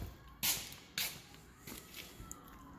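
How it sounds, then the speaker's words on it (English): Power door lock actuators on a 2001 Lexus LS430 clicking: a few sharp snapping clunks, two strong ones close together followed by fainter taps, over a low steady background. "You can hear the door locks work."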